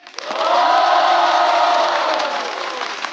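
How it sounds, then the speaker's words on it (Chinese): A studio audience at a roast-style comedy show cheers and applauds for the assembled guests, a loud swell of voices and clapping that builds quickly, stays full, then tapers a little. "来，让我们再一次掌声欢迎所有嘉宾。"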